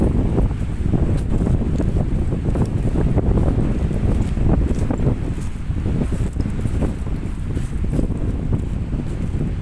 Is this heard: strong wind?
yes